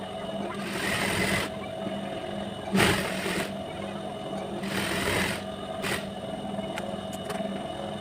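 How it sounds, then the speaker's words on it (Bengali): A sewing machine stitches the leg hem of a pajama, its motor whirring steadily and close, with short pauses and surges in speed. "এবার আমরা পায়ের মুখটা সেলাই করে দিই।"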